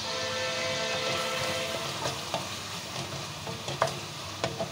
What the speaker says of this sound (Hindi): अच्छे से मैं इसको भूनूंगी नमक और अदरक लहसुन के पेस्ट के साथ